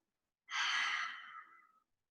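A single long, breathy exhale during a Pilates mat exercise, close and soft, fading out gradually after a sharp onset.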